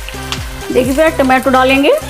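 Onions sizzle steadily in a pan with a little salt, heard close and continuous beneath a voice talking over them.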